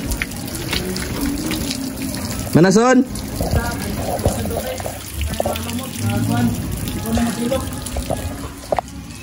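Water runs steadily from a tap throughout, filling a tank with chlorinated water, with voices talking over it and a short shout partway through.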